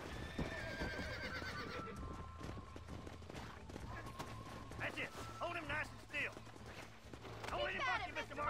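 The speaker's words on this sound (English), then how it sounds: "There's the horses." Horses whinny and neigh repeatedly in the Western game Red Dead Redemption, shrill calls rising and falling over hoof clip-clop, with someone talking between the cries.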